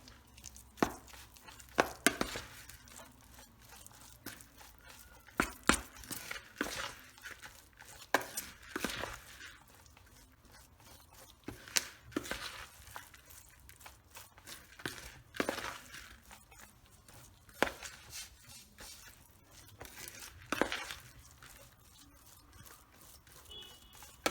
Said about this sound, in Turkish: Şimdi güzelce karıştıracağız.